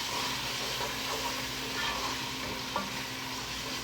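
Steady, close sizzling of spinach and beans frying in a pan for a Somali dish, with continuous crackle and hiss and faint stirring scrapes throughout, no talking.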